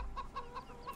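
Chickens in Farming Simulator 17 cluck in a steady rhythm of short, repeated calls, about four evenly spaced clucks in a second, fairly quiet and close, with no talk over them.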